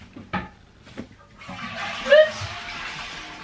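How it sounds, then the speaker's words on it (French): A household toilet flushes with a rising whoosh of rushing water that swells and then fades, preceded by a few faint knocks and a brief murmur of voices. "On tire la chasse."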